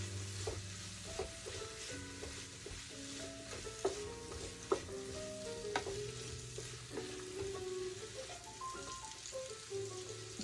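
Ethiopian comfort food warming in a pan, stirred now and then, with a steady close sizzle and scraping clinks throughout, no talking.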